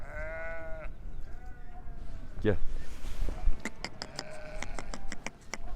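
Lambs and sheep bleat in short separate calls, near and fairly clear, while a man calls out to them in Turkish over light pattering and shuffling sounds.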